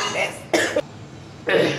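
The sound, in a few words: cough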